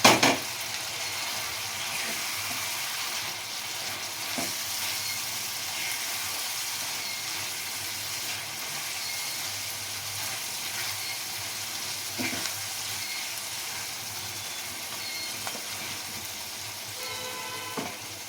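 Bhetki fish fritters frying in hot oil in a pan for chilli bhetki, giving a steady, loud, continuous sizzle and hiss with occasional soft pops and clinks, no talking.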